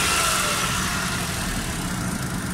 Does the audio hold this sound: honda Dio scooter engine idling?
yes